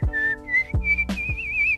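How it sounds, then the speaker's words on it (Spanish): Cartoon whistling from The Simpsons: a series of short, clear, high whistled tones rising and wavering, each starting with a small percussive blip, close and solo with no talking. "El abuelo aparece criticando a Homero porque él nunca pudo silbar de pequeño."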